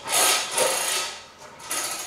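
Socket ratchet wrench working on a Dacia Sandero Stepway III front grille fitting, giving a couple of close, smooth mechanical whirring strokes with a short pause between, no talking.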